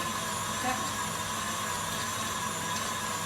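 An electric mixer whips pavlova meringue in a home kitchen, a steady whirring motor drone that holds constant and fairly quiet throughout, with no talking.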